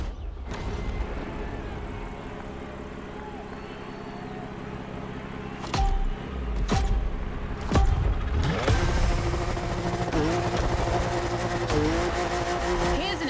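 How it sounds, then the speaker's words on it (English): A BMW M4 drifting in The Crew Motorfest, its engine droning steadily and then revving hard with sharp throttle blips and sliding tire noise that grow louder toward the end. "Drifting is my thing, and on top of that, I know this M4 very well"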